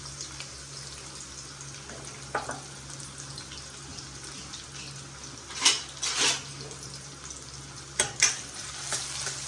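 Green chilies and onions fry in a pan as a steady, quiet sizzle, with a few brief scraping clinks of a spoon stirring against the pan and no voices.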